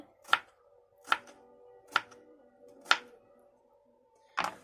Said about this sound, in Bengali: তারপরে সাথে শসাটা কেটে নিচ্ছে